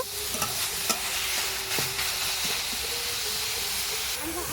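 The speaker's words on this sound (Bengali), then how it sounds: "এবার আমি এর মধ্যে গ্রেট করে রাখা কুমড়ো দিয়ে দিচ্ছি এইভাবে কুমড়োটা দু থেকে তিন মিনিট খুব ভালো করে নাড়াচাড়া করে নেব" Grated pumpkin fries in a pan while being stirred, a constant hissing sizzle punctuated by a few sharp knocks and scrapes of the spoon, close and fairly loud.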